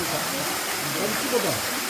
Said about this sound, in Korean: 인공 폭포입니다.